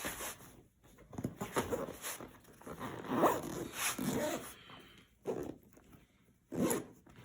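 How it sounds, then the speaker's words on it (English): An Underseat Pro travel bag being zipped shut in several quick ripping pulls, loud and close, with short pauses and handling rustle between strokes. "So that's the Underseat Pro. It just zips up like this."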